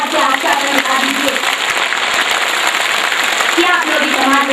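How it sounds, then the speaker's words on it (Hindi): A live audience at a political gathering breaks into sustained applause, dense continuous clapping holding steady throughout, loud and close with no pauses. "तालियों की गड़गड़ाहट से आश्वासन दिला दीजिए"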